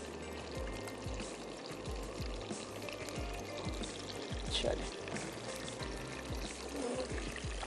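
Prepared tomato puree poured from a container into a pan for matar paneer masala, a soft continuous wet pour with light splashing heard up close throughout.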